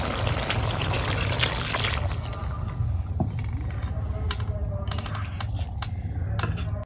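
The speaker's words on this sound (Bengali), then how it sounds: "এখন ঝোলের পানি দিয়ে দিই" Water is poured into a pan of fried tomato and potatoes to make the gravy for a boal catfish curry, a close splashing pour that settles into trickling and bubbling.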